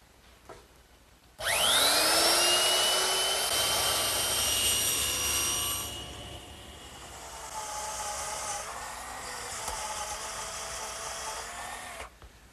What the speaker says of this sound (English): I'm just going to use a 1/4 inch rounding over bit, and I'm ready to do that now.